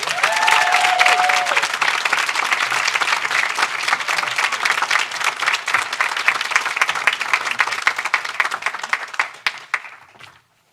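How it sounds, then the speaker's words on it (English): Steady crowd applause for Senator Andrew Gardis at a New York bill signing for the SAFE For Kids Act, a dense wash of many hands clapping for about ten seconds before trailing off at the end. "Ladies and gentlemen, a big round of applause to Senator Andrew Gardis."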